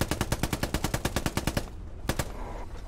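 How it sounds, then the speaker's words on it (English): Infantry fire in the war game Hell Let Loose: a fast, steady automatic burst of about fifteen close shots, a brief lull, then two more quick shots, loud against a faint background. "shooting at us"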